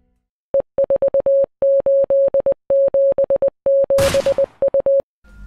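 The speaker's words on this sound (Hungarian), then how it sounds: "közben halljuk a morzézést" Morse code beeps from a GTA V Easter egg: a steady mid-pitched tone keyed in rapid dots and dashes, loud and clean with no talk, briefly overlaid by a burst of static near the end.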